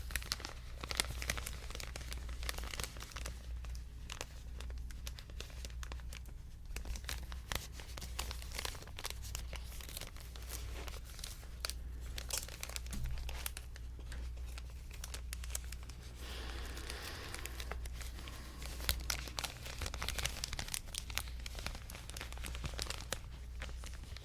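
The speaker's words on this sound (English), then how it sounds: "if you're hearing me use it on there, crinkling, then it's because I like it" Close, steady crinkling and crackling of material handled for ASMR, a dense run of sharp papery rustles and crunches lasting throughout with no talking, over a faint low hum.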